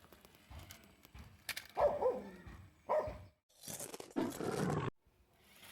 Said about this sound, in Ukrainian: І зараз він ще раз впаде, коли собака буде гавкати.